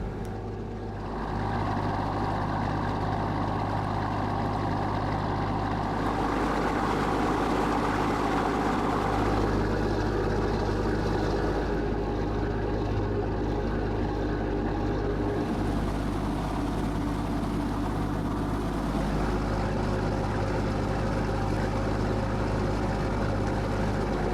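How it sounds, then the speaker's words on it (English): Ferry and ro-ro ships heading out on the River Thames near Southend, heard as a constant deep engine and propeller rumble mixed with water rush, loud and steady throughout with slight shifts as vessels pass, no speech. "This ferry, North Stream, is heading out at around 18 knots, and she's followed by a couple of other ro-ros, product tankers and dredgers."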